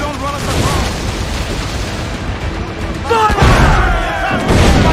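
Ship cannons firing during a naval battle in Assassin's Creed Black Flag, heavy booms and thuds layered over shouting crew voices, with louder bursts of fire near the end.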